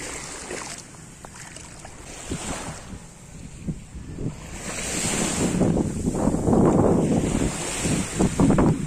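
Sea waves wash onto the sandy beach at Pantai Puteri in Malacca, a broad roaring surf that builds toward the end, mixed with gusty wind buffeting the microphone and no talking.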